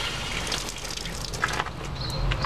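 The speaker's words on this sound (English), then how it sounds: "I have to rinse my hand because I don't want the bleach on it." Water runs steadily from a sink tap while a hand is rinsed clean of bleach, a close, continuous gushing splash that fills the whole short stretch with no voices over it.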